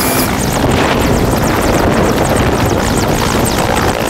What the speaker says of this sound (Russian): Как только появляется хоть малейшая зацепка, вертолет зависает в воздухе